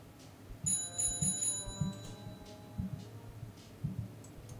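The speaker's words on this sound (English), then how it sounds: "Ring the bell to order." A bell in the game Calm Down, Stalin rings once in a short, bright burst of several quick strikes as vodka is ordered, followed by soft repeated thumps.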